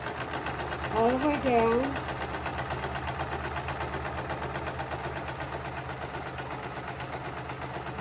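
A sewing machine stitches fabric in a steady mechanical whir throughout, with a person's voice speaking over it briefly near the start.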